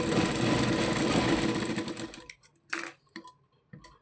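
A sewing machine stitches a baby frock, whirring steadily and close for about two seconds before stopping, followed by a few brief clicks and handling noises.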